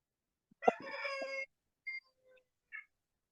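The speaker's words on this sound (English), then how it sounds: "there's one of the cockerels is literally stood outside the window" A farm cockerel standing just outside a window crows once, loud and close, then gives a few short, quieter follow-up calls.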